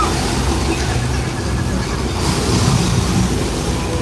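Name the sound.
flash flood water special effect on Universal Studios backlot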